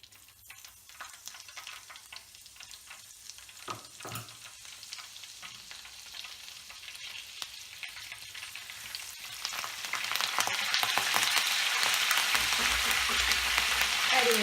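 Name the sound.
green chillies and curry leaves frying in oil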